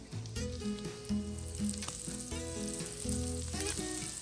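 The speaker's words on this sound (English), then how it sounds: "I'm going to start placing my pork chops in my skillet" Fried pork chops sear in a hot skillet, with a steady sizzle beneath louder background music.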